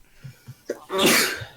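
A single sharp sneeze bursts out after a couple of soft intakes of breath, loud and close, with no talking.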